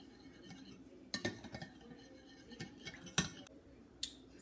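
A utensil clinks and scrapes against a bowl while spicy salmon sauce is mixed, with several sharp taps spaced irregularly, close and fairly quiet.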